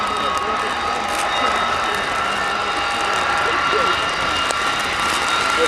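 Avro Vulcan XH558 jet bomber flying at the Royal International Air Tattoo air show, a loud continuous jet roar with a sustained whine, steady and unbroken, while a voice talks over it.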